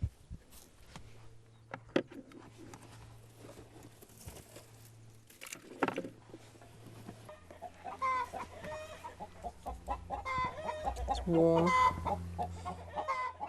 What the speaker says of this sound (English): I have old hens that don't lay anymore.